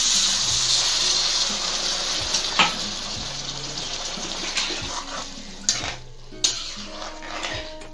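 Water is poured into a pan of kabuli chickpeas, producing a running, bubbling wash with sizzling and several sharp metallic clinks of utensils against the pan, with no talk.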